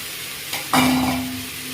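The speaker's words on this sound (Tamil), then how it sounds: "ஆட் பண்ணிவிட்டு இப்போ நல்லா வணக்கி விடுங்க. லைட்டாக காலிஃப்ளவர் வணங்கட்டும்." Cauliflower for kolambu hits a hot pan with a sudden sharp sizzle after a brief scrape, then a steady frying hiss that slowly fades, close and loud, no talking.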